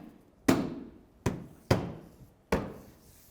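Four sharp, solid impacts as a front bumper cover is knocked into place on a 2015-2019 Hyundai Sonata, irregularly spaced over about three seconds, close and fairly loud with short decays and no talking.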